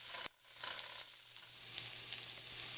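Sliced vegetables for gluten-free pepper steak sizzling steadily in a hot pan, a close, even hiss after a brief clack at the start, with no voices.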